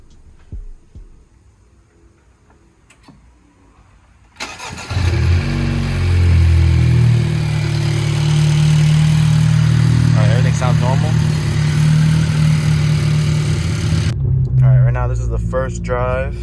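A Honda Civic Si with a new PRL Cobra intake cranks and fires up for the first time after quiet shuffling, then settles into a loud, close, steady idle rumble that drops off near the end; voices are heard over it.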